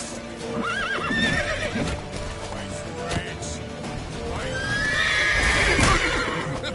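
Video game horse on PS4 neighs and whinnies with clip-clop hooves, loud and close, amid shouting voices and game battle noise.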